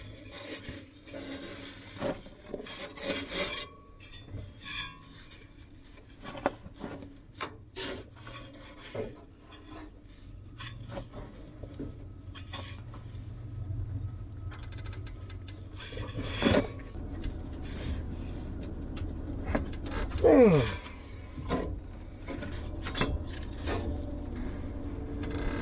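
The engine crank pulley of a 1964 Mercury Comet being turned by hand, producing intermittent scraping, rasping and creaking metal-on-metal rubs with sharp clunks, moderately close, without talk.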